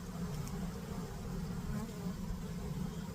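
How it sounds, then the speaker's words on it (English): Steady, dense buzzing of many honey bees during a bee removal, a continuous low hum close by with no voices. "The bees will come in and fill all this in."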